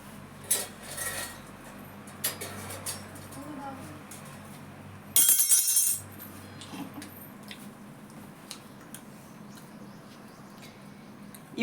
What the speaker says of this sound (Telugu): ఇప్పుడైతే నేను మూకుడు పెట్టుకున్నాను